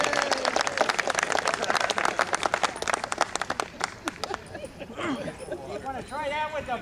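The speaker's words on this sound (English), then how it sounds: "How about a round of applause for that?" Audience at the Groat Family Wild West Show in Lone Pine applauds in a dense, steady burst of clapping that fades after a few seconds, leaving a voice speaking amid crowd murmur.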